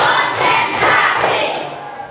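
Several people clap in unison during a counted clapping drill. A couple of distinct claps rise over continuous group noise.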